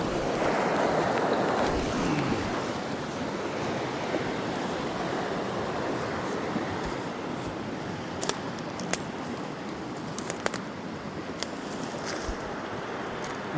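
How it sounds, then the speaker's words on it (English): Steady rushing water of the Upper Rogue River fills the scene, a broad continuous wash flowing nearby, with a few faint clicks toward the end. "There's the river."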